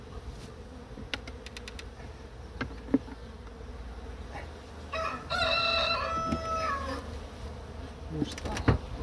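Honey bees hum steadily around an open Farrar hive as frames are moved during brood expansion in dandelion season, a low buzzing with occasional clicks, while a rooster crows in the middle distance.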